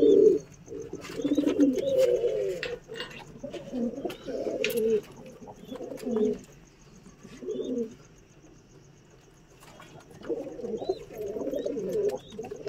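Pigeons in a rooftop loft coo in repeated soft, throaty bursts with short quiet gaps, close by, alongside occasional faint chirps.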